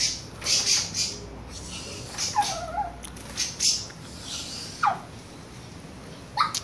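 Sabiá thrushes, including a female, squawk while fighting, giving a few short harsh calls and chirps scattered over a faint, quiet background, with no talking.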